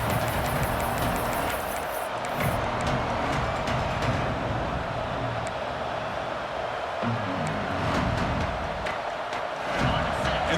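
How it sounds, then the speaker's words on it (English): A big stadium crowd roars steadily through a college football game between Georgia and Ohio State, a dense, sustained wash of cheering with faint distant whistles near the goal line. "this big crowd doing everything possible to inspire this defense down here near the goal line"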